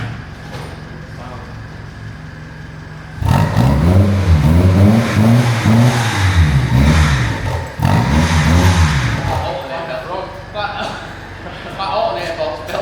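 Engine of a Mini fitted with a custom fabricated exhaust revs hard in two loud bursts after a quieter idle, the pitch climbing and falling, then settles back to a rough idle.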